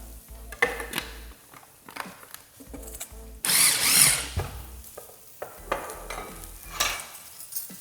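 Food processor chopping chimichurri sauce ingredients in short pulsed bursts with brief pauses between them, and one longer whirring run in the middle, close and fairly quiet.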